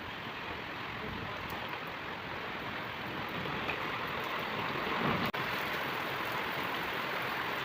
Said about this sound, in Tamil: ஜோர் சரியான மழை பெய்யுது.